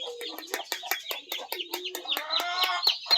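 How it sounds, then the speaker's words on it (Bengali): Native chicken chicks peep and cheep close by in a quick, busy series of short, high calls that overlap one another without pause. "দেশি মুরগির বাচ্চাগুলো মনে হয় বের হয়ে আসলো"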